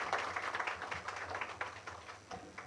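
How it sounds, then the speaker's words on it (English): A seminar audience at a career guidance event in NDIIT College gives a round of applause for Dr. Rahul Chaudhary, a steady wash of many hands clapping at moderate distance, fairly faint, with no speech over it. "Can we give a round of applause?"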